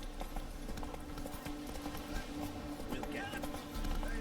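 Horse hooves clip-clop steadily at an easy walk in The Witcher 3 video game, a continuous rhythmic patter under game ambience and occasional speech.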